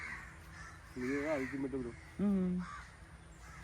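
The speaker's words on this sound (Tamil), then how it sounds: "எந்த சத்தமும் இல்லை. இந்த காக்கா சவுண்டு தான் இருக்குது." Crows cawing outdoors at a quiet scenic spot, two distinct harsh calls in succession, the second longer and louder, with someone speaking briefly over the first.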